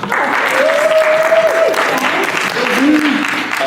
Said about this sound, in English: Do you want to give a round of applause?